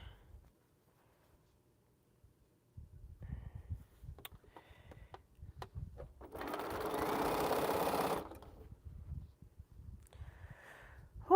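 A home sewing machine stitches quilt pieces in one steady run of about two seconds, preceded and followed by quieter handling and fabric rustle, with no talking.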